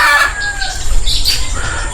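A chicken squawks loudly and close by in a short burst of agitated clucks and cries, with some rustling in the background.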